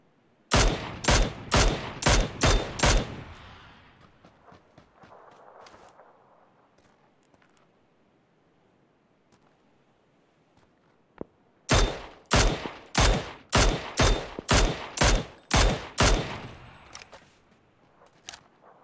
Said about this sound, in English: Some guy was shooting from up here.